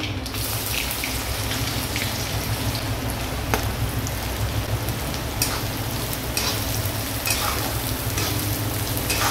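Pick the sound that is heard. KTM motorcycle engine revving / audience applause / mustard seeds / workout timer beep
mustard seeds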